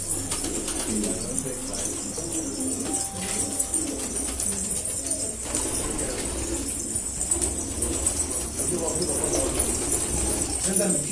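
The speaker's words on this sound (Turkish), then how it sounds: "yeni kuşlar gelmiştir" Pigeons coo steadily at a pigeon-selling coffeehouse in Gaziantep, Turkey, a low continuous murmur of birds with occasional wing flaps, set within a busy indoor hum and voices talking nearby.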